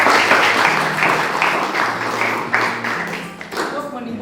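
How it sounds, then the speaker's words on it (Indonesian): Classroom applause at an anti-corruption education session, a steady patter of many hands clapping under raised voices, with harmonic tones of talk running through. "tepuk tangan dulu setuju"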